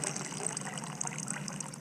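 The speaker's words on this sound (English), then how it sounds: "the water that's trickling down from the cup is nice and even every time" Water trickles steadily down from a cup in an even, continuous stream, close and fairly quiet, with no voices.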